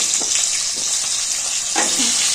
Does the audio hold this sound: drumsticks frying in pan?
yes